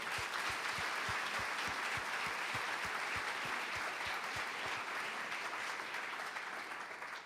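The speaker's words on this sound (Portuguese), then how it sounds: "Dá uma salva de palmas a Jesus" A church congregation applauds for Jesus during a service, a sustained wash of clapping from a large room heard at a moderate distance, with a steady rhythmic thump pulsing underneath.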